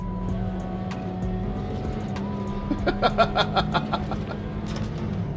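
A racing car engine in the Assetto Corsa racing game drones steadily with shifting revs, then a burst of sharp rhythmic mechanical pulses midway, loud and close with no talking.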